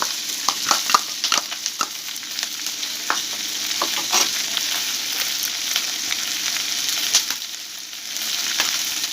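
Chili sauce sizzles steadily in a pan with mushrooms for a chilli mushroom dish, a continuous close frying hiss with scattered crackles and pops, no voices.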